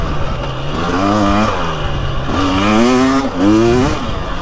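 A 2023 Husqvarna TX300 dirt bike revs on a long woods trail loop, its engine pitch rising and falling in repeated surges. The motor stays loud and close throughout, running steadily with no pauses.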